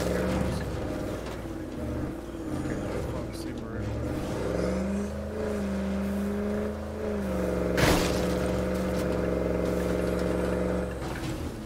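Car engine in the co-op zombie survival game State of Decay 2, droning and revving with a shifting pitch that rises and falls, plus a sharp crash partway through, heard continuously for several seconds.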